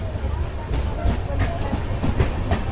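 Secunderabad-Guntur Intercity SF Express train running on rails, a steady loud rumble with rhythmic wheel clatter and hiss, heard from on board with no talk.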